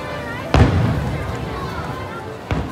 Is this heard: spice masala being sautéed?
no